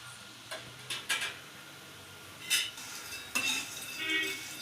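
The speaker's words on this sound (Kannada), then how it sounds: "ಮ್ಯಾಗಿನ ಸ್ವಲ್ಪ ಹೊತ್ತು ಚೆನ್ನಾಗಿ ಫ್ರೈ ಮಾಡ್ಬೋದು" Maggi noodles roasting in a pan while being stirred, quiet scrapes and clinks of a utensil against metal over a faint sizzle, in short bursts with no talk.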